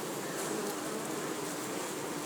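A dense, steady hum of many honeybees buzzing close by at their hives, continuous and even without pause.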